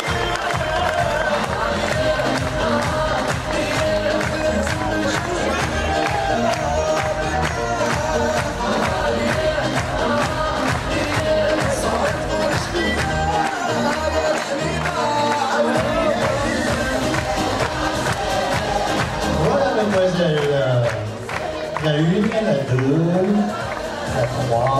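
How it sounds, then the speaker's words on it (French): Audience applause and cheering at the Miss Marquise 2012 pageant, dense and continuous with music and a presenter's voice over it, swelling steadily throughout. "Et sous le tonnerre d'applaudissements"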